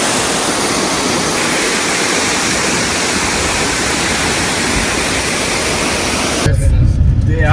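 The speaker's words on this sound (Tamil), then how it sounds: "இந்த அருவி" Monsoon waterfall near Mahabaleshwar, a loud, steady broadband roar of falling water filling the scene, with the tone shifting to a deeper, closer rush near the end.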